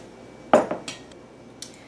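Jello being spooned into small cups, giving a few light clinks and taps of a spoon against the cups, one sharp knock followed by softer ones and a faint tap near the end, with no talking.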